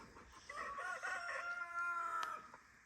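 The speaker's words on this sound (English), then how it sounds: "There's the rooster" A rooster crows once in a summer garden, a clear drawn-out cock-a-doodle-doo heard from a moderate distance over quiet outdoor background, with no talking.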